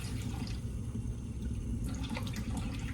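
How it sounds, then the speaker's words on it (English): Tap water runs steadily in a kitchen sink to rinse off a metal tablespoon, a soft continuous rush with faint splashing, no talk. "Rinse off my tablespoon there."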